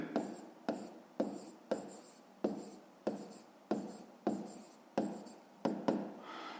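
A pen writes on paper while a fifth-grade maths exercise is worked out, giving about eleven short scratching strokes in a steady rhythm, close and fairly quiet, with no talk.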